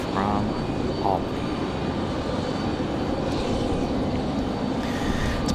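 An airliner arriving at Raleigh Durham airport, a steady, broad engine roar that holds at constant loudness throughout, with a brief voice near the start.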